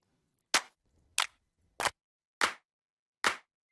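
A dry clap sample for a deep house drum groove strikes five times, each hit short and crisp, separated by silence at a slow, slightly uneven pace.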